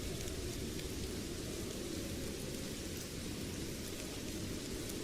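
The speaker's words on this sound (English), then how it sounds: "The rain is hammering down." Heavy rain hammers down during a Tranmere v Bradford football match, an unbroken loud roar of hissing, drumming downpour heard alone throughout.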